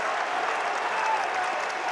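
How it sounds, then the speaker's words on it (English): Basketball crowd at a Cincinnati versus West Virginia game cheering and applauding, a loud sustained wall of clapping and roar that holds steady throughout. "Listen to this crowd."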